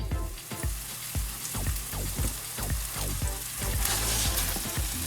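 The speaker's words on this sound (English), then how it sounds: "that sausage is browning" Sausage browning in a pan, a steady close frying sizzle with crackling spits and pops running throughout, growing slightly louder toward the end.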